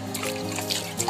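Water trickles and drips steadily over a freshly planted Tabebuia bonsai cutting at close range, with a soft, quiet flow and no talking.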